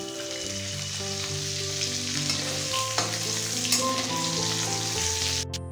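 Peanuts sizzle and crackle steadily in hot shrimp-frying oil with tempering spices, a close, continuous fry with a few stirring scrapes and no voices.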